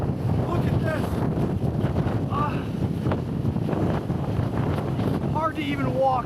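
Strong hurricane wind gusts from Hurricane Ian buffet the microphone in Fort Myers, Florida, with a steady loud roar and rumble throughout and a voice speaking over it.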